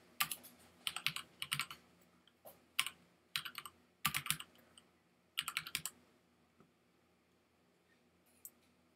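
Bursts of typing on a computer keyboard, quick clusters of key clicks in several short runs with pauses between, fairly close and alone, ending with a single faint tap.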